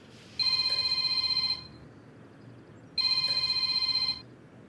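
A telephone rings in a home, giving two bursts of electronic trilling. The bursts are separated by a pause of about a second and a half, and the room is otherwise quiet.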